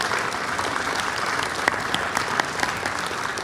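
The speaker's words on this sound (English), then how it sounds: "Let's give one more big round of applause for all the 4 award winners." Large audience applauding award winners at a cultural festival event, a steady dense wash of clapping with a few sharper claps standing out, continuous for several seconds.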